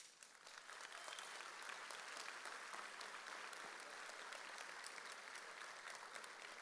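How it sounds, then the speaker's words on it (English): Sustained audience applause at a university commencement ceremony as platform-party administrators stand, a broad wash of many hands clapping evenly from start to finish. "Let's give them a round of applause."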